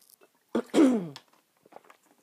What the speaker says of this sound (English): I was really hoping I wasn't going to have to cough during this.